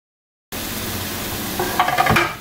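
Vegetables and boiled chicken for Chinese samosa filling fry in oil, a sudden steady sizzle after a half-second of silence, then a few louder stirring scrapes near the end.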